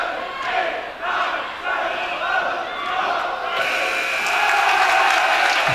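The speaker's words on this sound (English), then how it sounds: "Good job by the Ignatius crowd there to cheer her on" A St. Ignatius crowd cheers at a boys basketball playoff game, loud sustained shouting and yelling from many voices that builds toward the end.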